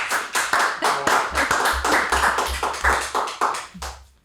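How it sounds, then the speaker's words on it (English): A hometown studio audience claps in a steady, rhythmic unison beat, loud and close, keeping time for several seconds before fading out. "The way that you elicit cheers from this audience is unbelievable"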